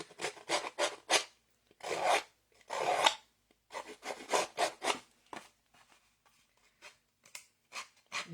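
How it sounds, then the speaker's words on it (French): A tool rasps and scrapes in short, close bursts against the edges of a card background, trimming and roughening them in an uneven stop-start rhythm. "pour gruger un peu, rogner les bords, parce que ça donne une autre texture"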